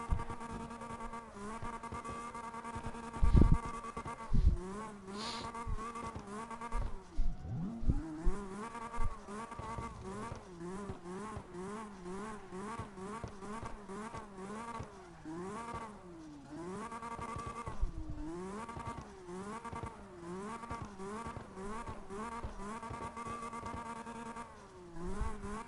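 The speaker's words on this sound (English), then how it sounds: "for a modified Supra, it actually doesn't sound that bad" A modified Toyota Supra engine in the CarX Drift Racing video game drones and whines as revs repeatedly climb and drop, steady and continuous with a few louder bursts early on.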